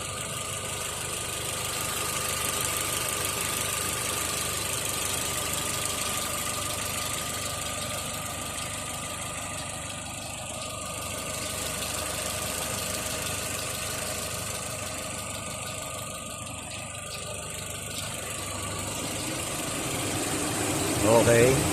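Car engine idling with its auxiliary cooling fan switched on, a continuous mid-pitched hum with slight vibration and a whooshing fan layer, under someone talking.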